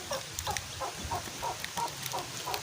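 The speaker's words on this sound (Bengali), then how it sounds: "আপনারা দেখেন এই যে মুরগি বাচ্চা" Newly hatched chicken chicks peep in a steady, evenly spaced series of bright chirps, close by over a faint background hiss.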